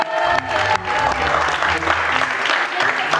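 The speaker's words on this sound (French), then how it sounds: "on peut les applaudir, bravo." An audience at a team competition finale applauds with a brief burst of clapping and cheering at moderate volume, mixed with crowd noise and some voices.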